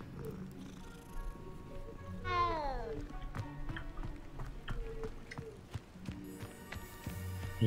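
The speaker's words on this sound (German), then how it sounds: "Oh, Katze." A cat in the video game Hogwarts Legacy lets out a single falling meow amid soft footsteps and game ambience.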